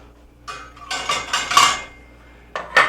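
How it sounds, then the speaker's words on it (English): A metal lid clattered onto a pot on a switched-off stove while macaroni waits, several close, bright clanks and rattles in a cluster, then two more knocks after a short gap. "All I have to do now is just put a lid on this"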